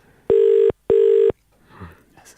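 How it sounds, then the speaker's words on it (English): Two loud, steady telephone ring tones sound in quick succession, each lasting under half a second, followed by faint rustling. "It's ringing at least."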